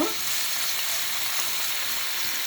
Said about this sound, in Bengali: সয়াবিন তেল দিয়ে ভেজে নেব মাছটা।